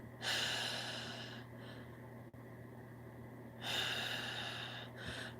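A person imitates heavy breathing into a phone, with two long loud breathy exhales separated by a quiet pause, close and alone without speech.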